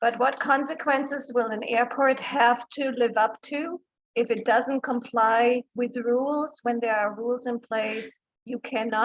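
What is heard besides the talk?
No distinct noise like a dog, phone or traffic.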